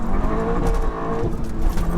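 A Stage 2 402 bhp SEAT Leon Cupra roars loudly and steadily up close after a downshift, revving hard as it accelerates through a gear with a deep, throaty exhaust note.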